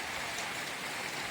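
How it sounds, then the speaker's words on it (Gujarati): Rain falling steadily in a village, a dense, even hiss of drops close around with no voices. "જોવો એકલો વરસાદ જ છે."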